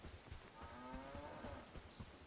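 Cows in Bellwright give a low, drawn-out moo that stands out clearly, faint and somewhat distant, over quiet game ambience.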